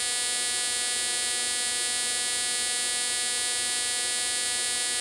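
A Honda CBR125 performance-pack ignition sparking on a test rig at 30,000 RPM, a steady, dense electrical buzz with a strong constant hum, unchanging and alone throughout.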